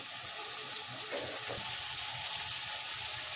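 Tomatoes frying in a pan for garlic rice, giving a steady close sizzle with a few brief stirring scrapes and no talk.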